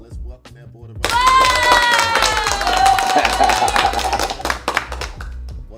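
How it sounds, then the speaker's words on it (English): A classroom of students breaks into loud cheering, whooping and clapping for an arriving guest, a sustained crowd roar with rising shouts that fades slightly toward the end. "You got the whole class cheering?"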